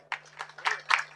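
Audience members at a Marathi kirtan clap in a handful of spaced, rhythmic bursts, close and moderately loud, over a low steady hum.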